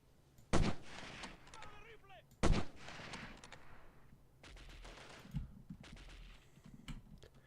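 Gunfire in the 1998 PC shooter Delta Force: two loud, sharp gunshot bursts stand out, followed by quieter distant shots and battle noise over several seconds.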